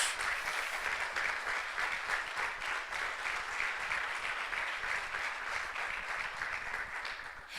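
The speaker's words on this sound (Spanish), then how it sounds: "Dale un aplauso fuerte al que vive" A church congregation claps in loud, sustained applause that fills the hall evenly from start to finish, with a few voices faintly mixed in.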